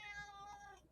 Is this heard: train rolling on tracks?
no